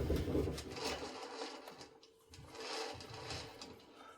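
A metal lathe cuts a chamfer off a brass hammer workpiece, giving a close, rhythmic mechanical whirring and chattering with scraping tool contact that dips briefly midway before resuming.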